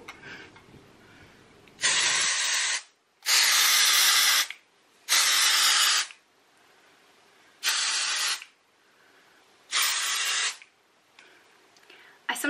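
Aerosol dry shampoo sprays in five separate bursts of loud, close hissing, each lasting about a second with short quiet gaps between them.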